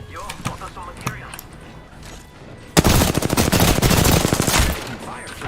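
Rapid automatic gunfire from a shooter video game, with dense loud bursts that start abruptly partway through and continue in a sustained volley. Quieter game sounds come before the shooting.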